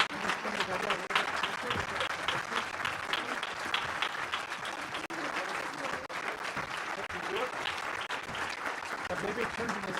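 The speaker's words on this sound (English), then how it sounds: "let's give them all a final round of applause." A room full of Rotary Club guests applauds spelling bee scholars, steady dense clapping lasting throughout at moderate distance, with scattered voices faintly underneath.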